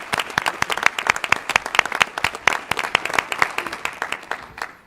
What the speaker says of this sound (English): So I would like to give Danielle a round of applause for that award.